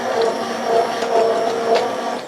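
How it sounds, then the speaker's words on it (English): A blender running on high, pureeing celery root, gives a steady whirring motor drone that swells and dips slightly as the contents churn, with no talk over it. "So now I'll turn the blender on high."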